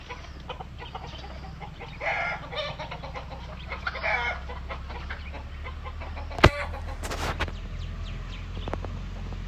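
Chickens and their chicks cluck and chatter outdoors in the rural Thal region, a steady mix of soft close clucks over a low hum, with one sharp louder squawk partway through.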